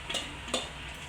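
Fenugreek leaves drop into a frying pan with onion and tomato, setting off a close, steady sizzle with two brief stirring clatters.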